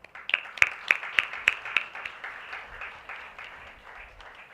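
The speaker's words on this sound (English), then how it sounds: "let us congratulate all the winners with a big round of applause" Audience at an agricultural congress closing ceremony claps for award winners: a handful of sharp, distinct claps ring out close at first, then settle into softer, scattered applause that trails off.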